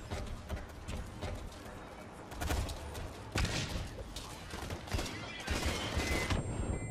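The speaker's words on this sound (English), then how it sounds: "Covering fire." Bursts of gunfire in the first-person shooter game Blacklight Retribution crackle in rapid volleys over a busy, noisy mix of game sounds, with several sharp peaks from close range.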